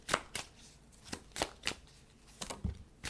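Tarot cards being shuffled by hand: a quick series of crisp riffling bursts, close and moderately quiet, with short gaps between them.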